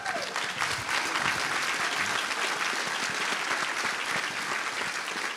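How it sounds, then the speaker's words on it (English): Audience applause at a Christian film festival panel, sustained and even, with many hands clapping at a moderate distance and some faint voices mixed in. "then you can applaud some more"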